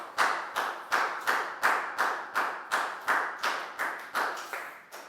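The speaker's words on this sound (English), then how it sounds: "Big round of applause for Lakao," Classroom applause for a student in a Year 4 maths lesson: a run of about fourteen evenly spaced, close claps in a steady rhythm, crisp and fairly loud, with no talking.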